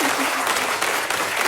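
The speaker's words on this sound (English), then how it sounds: "They're applauding because I'm still alive." A live comedy panel show audience applauds in a steady, moderately loud burst of clapping that fills the short moment without a break.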